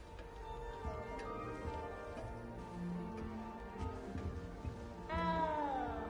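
A cat meows repeatedly in a Hogwarts video game, with tonal, wavering cries over a soft musical background and a final rising-then-falling meow that is louder than the rest.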